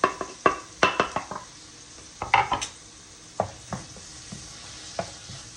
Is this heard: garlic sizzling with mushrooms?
yes